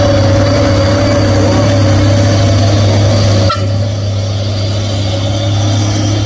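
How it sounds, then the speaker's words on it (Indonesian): A Fuso 6x4 tanker truck engine idles with a steady low drone and hum, close and continuous, with a brief click midway. "Yang 2 unit truk tangki."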